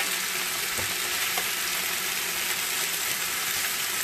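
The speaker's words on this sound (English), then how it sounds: "So we're just browning our oxtails a little bit." Oxtails brown in a hot pan with a steady, dense sizzle and crackle that fills the whole stretch, with faint occasional utensil touches underneath.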